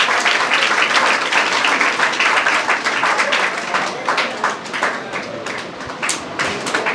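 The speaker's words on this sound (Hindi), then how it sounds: "और जोरदार तालियों के साथ स्वागत करें" A crowd applauding steadily for several seconds at a coaching institute's toppers celebration in Kahalgaon, India, dense clapping that gradually thins and softens toward the end.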